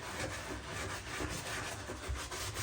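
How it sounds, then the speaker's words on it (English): A brush scrubs a leather boot to lift out dirt and grime before waterproofing it. The brisk, rhythmic bristle rubbing is steady and fairly soft, close up, with no voices. "So basically all we're going to do is be giving this a really good scrub."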